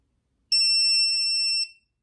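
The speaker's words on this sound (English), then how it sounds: "Then you're supposed to turn it up until it starts beeping." A hidden-devices detector gives one steady, high, piercing electronic beep lasting about a second, loud and close in otherwise silent surroundings.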